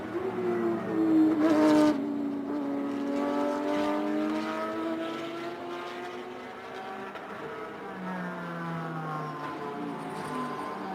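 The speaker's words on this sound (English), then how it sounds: "GT4 leader right here getting passed by GT3 cars" GT3 and GT4 race cars passing on the Sepang circuit, engines rising and falling in pitch as several cars go by one after another at moderate distance, with no talk over them.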